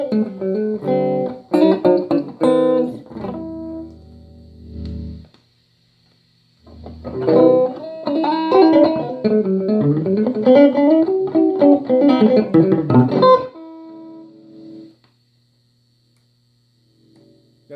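A Fender Pro Junior tube amp played loudly with fresh tubes, strummed and picked guitar chords ringing out with a short gap in the middle and a sustained tone fading at the end, with a steady hum underneath.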